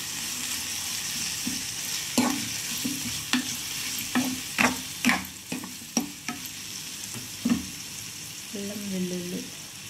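Spices such as turmeric and chili powder fry in hot oil for a Bombay chutney, with scattered sharp stirring scrapes and clinks over a steady sizzle and no speech.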